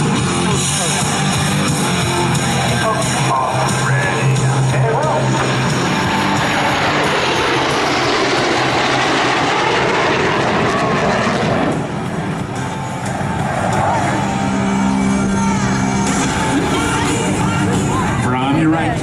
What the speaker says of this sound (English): our 4 diamond pilots to perform simultaneous aileron rolls in close formation